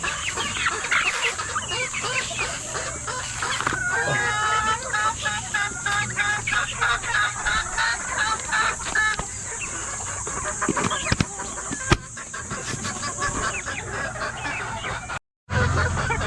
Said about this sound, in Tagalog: Ito naman mga tropa yung mga napili natin na mga brood hen, mga pullet para sa next na breeding season.